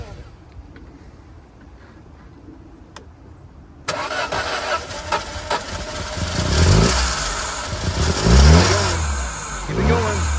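A 2001 Saturn SC2 with a stuck transmission fires up after a quiet stretch, then its engine revs in several rising surges, loud and close, settling back toward idle between pushes.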